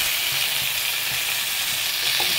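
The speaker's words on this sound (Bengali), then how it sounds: "চলো আলু আর পেঁয়াজটা একসাথে ভেজে করে ভালো করে লাল করে মশলা ভাজা হয়ে গেছে" Potatoes, onion, tomato, ginger and garlic fry in a pan with a dense, steady sizzle, close and loud, with a few soft stirring scrapes and no talk.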